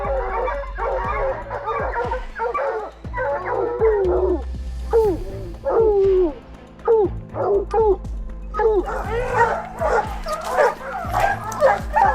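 Hunting dogs on a wild boar hunt bark, yip, whimper and howl in a rapid, excited stream of close calls that keep going without a break.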